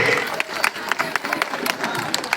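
Women at a charitable trust's medical camp stand and clap to welcome the chief guest, producing uneven, scattered handclaps over a busy crowd murmur with voices mixed in.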